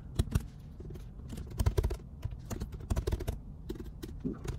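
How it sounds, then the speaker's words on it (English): Rapid, uneven clatter of keys on a computer keyboard, close and clear, in short bursts with brief pauses between. "Struggling with typing today."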